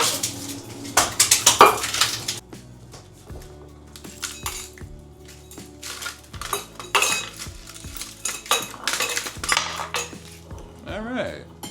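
Ice for espresso martinis is handled at home, with clinks and rattles against glass and metal, a dense burst of clattering early on, then scattered knocks and chinks throughout.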